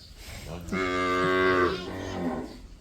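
A calf, tied away from its mother cow today, gives one long, loud, close moo that swells and then trails off over quiet farmyard background.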